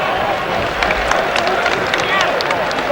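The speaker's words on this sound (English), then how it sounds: "This crowd here, boy, what a crowd" Loud, dense arena crowd roaring and cheering at a 1979 NBA game, Houston Rockets at Seattle SuperSonics, a sustained wall of noise with scattered shouts and whistles rising over it.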